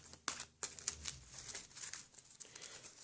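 Space Hulk: Death Angel cards being shuffled by hand at close range, a quiet series of crisp riffling and sliding bursts with small taps and rustles between them.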